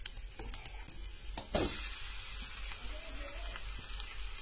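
Grated coconut roasting in a pan with onions for a Goan crab curry, a steady close sizzle with a brief louder hiss and scrape of stirring partway through.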